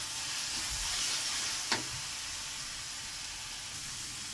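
Meat browning with salt in a pan gives a steady, quiet sizzle and hiss throughout, with one brief scrape or stir near the middle.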